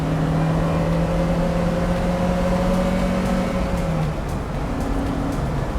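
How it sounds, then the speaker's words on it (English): A 1970s Alfa Romeo Spyder engine pulls up toward 3,000 RPM on a track straightaway, a loud steady drone with rising tones that holds for about four seconds before easing off. "So let's give it a bit of gas and see what happens here."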